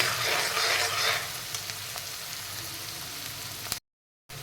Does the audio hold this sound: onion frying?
yes